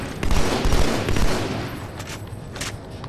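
Gunfire in the video game Halo Master Chief Collection: a dense, continuous burst of rapid shots with a roaring wash, loud at first and thinning into scattered pops by the end.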